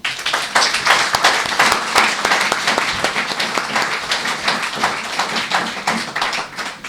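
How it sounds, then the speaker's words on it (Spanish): An audience at a history conference gives the lecturer strong applause, dense and sustained clapping that fills the room for several seconds before easing slightly. "vamos a darle un fuerte aplauso"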